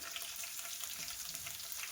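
Garlic frying in a pan as a faint, even crackling sizzle, quiet and continuous with no stirring strokes or speech.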